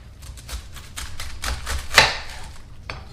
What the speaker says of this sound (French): Là, avec un grand couteau, je vais le couper en deux.